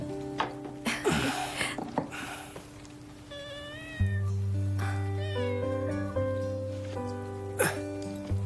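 A cat wearing a collar at a vaccination meows several times in drawn-out, wavering cries, near and clear, with steady musical tones underneath.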